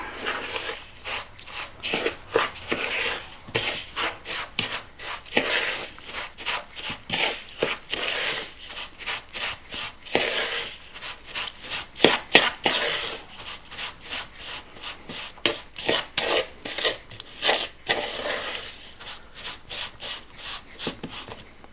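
Homemade bounty filling being stirred in a bowl, a steady rhythmic scraping and rubbing of spoon against bowl repeating quickly and closely for the whole stretch.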